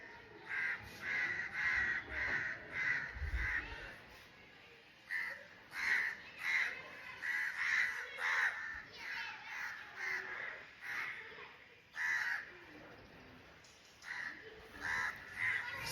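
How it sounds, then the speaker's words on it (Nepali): Several crows caw repeatedly overhead, harsh calls coming in bursts with short gaps, fairly loud and close, with no talking. "आकाशमा पुरा काग।"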